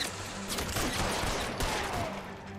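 Shotgun and Tommy gun fire in a video game: a dense, continuous fusillade of overlapping gunshots rattles on for several seconds at a steady, close, loud level.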